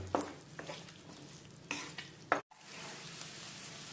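Large-diced tomatoes frying in oil in a pan for a Bengali tel koi fish curry give a steady close sizzle, broken by a few sharp stirring scrapes and a brief dropout.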